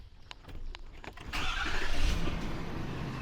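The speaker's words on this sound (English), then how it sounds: "Let's go ahead and fire this truck up." A Ford diesel truck engine cranks briefly with a starter whine, then catches and settles into a steady, close diesel running rumble, heard with no talking.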